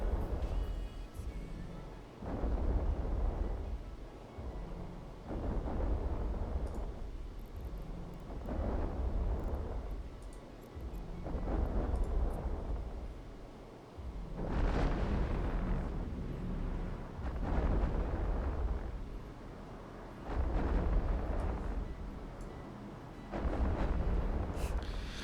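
Bombs explode one after another in EVE Online, each deep rumbling boom swelling and fading in a steady rhythm of roughly eight blasts with no talk.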